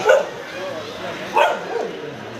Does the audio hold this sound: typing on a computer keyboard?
no